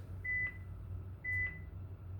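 An exercise timer gives two short, thin electronic beeps about a second apart, faint over a low background rumble.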